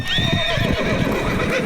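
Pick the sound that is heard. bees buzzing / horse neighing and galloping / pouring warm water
horse neighing and galloping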